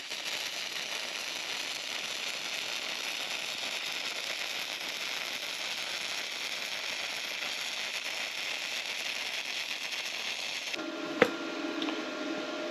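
A BESTARC MIG welder on 120 volt power at 19.5 volts and 110 amps laying a test bead on metal held in a vise, a steady crackling hiss that stops abruptly near the end, followed by a sharp click.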